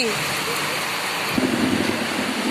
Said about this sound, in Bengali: বৃষ্টি এত জোর প্রচুর প্রচুর বৃষ্টি মেঘের আওয়াজ পাচ্ছেন বন্ধুরা